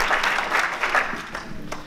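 Audience applause at an evening presentation of the 21st Nuits-Saint-Georges half-marathon, a short, dense burst of clapping from a room full of people, loud and close with no voices over it.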